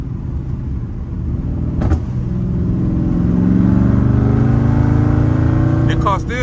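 A car engine with a burble tune while drifting, a loud sustained drone that climbs steadily in pitch and volume as it revs, with a brief sharp burst near two seconds and a chirp at the end.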